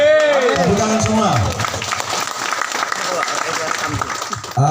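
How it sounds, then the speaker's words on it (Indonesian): An audience at an evening gathering for the regent and vice regent of Kolaka Timur claps together, a dense burst of applause under a loud, echoing voice on a PA system. "Tepuk tangan semua."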